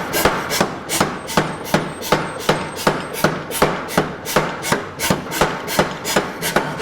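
A hammer strikes a hot steel sword blank fresh from the forge in a fast, steady rhythm. The sharp, ringing blows land roughly twice a second, close and clear, with no talk.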